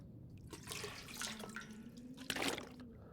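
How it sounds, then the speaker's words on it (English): Water runs from a tap in The Long Dark, a soft steady trickle with faint drips and a brief louder splash near the end, quiet and alone without any voices. "You can even take water out of the system"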